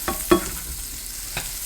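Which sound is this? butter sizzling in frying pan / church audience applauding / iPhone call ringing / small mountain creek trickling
butter sizzling in frying pan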